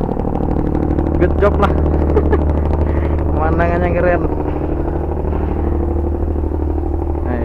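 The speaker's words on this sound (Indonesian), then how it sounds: "Suara knalpotnya ya terdengar sekali." A ferry's engine exhaust drones with a deep, constant rumble close by while the ship waits to depart. People talk over the rumble throughout.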